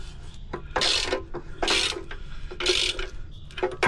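Ratchet wrench clicking in several loud bursts, a rapid pawl rattle repeating about four times as bolts on the back of mounting brackets are tightened, close by with no talking.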